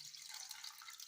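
Cold tap water pours steadily into a two-liter cooking pot for chicken soup, a soft, continuous hiss with no talk over it.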